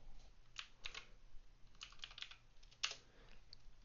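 Keys clatter on a computer keyboard as a terminal command is typed, a few quick clustered taps followed by a pause and another short burst, close and fairly quiet with no talking.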